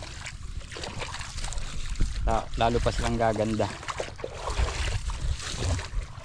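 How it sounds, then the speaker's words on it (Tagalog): A small boat's diesel engine runs steadily with a low, continuous rumble beneath a person talking nearby. "patay muna natin yung makina"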